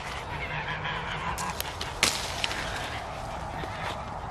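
Geese honking in a farm field: scattered short honks and sharp calls over a steady outdoor background, fairly faint and at a middle distance.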